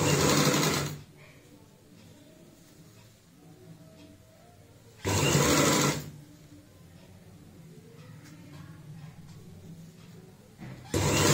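A sewing machine stitches a pleated frill onto a stool cover in three short bursts of rapid, close, even stitching. The quieter handling pauses between the bursts carry soft speech.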